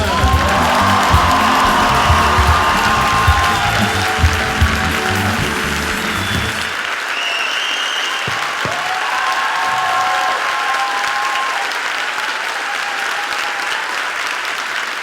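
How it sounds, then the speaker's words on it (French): Thunderous applause greets Antoine Daniel at a conference at the Forum des Images, a loud dense wall of crowd clapping that drops to a softer patter halfway through and keeps on without a break. "merci de faire un tonnerre d'applaudissements"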